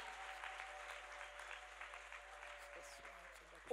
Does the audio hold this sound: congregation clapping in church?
yes